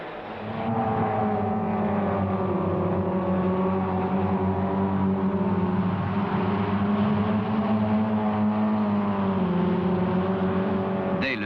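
Several blue Renault R8 Gordini race cars running bumper to bumper on the first lap of a race, a loud sustained engine drone with steady harmonics and slight pitch shifts, no voices.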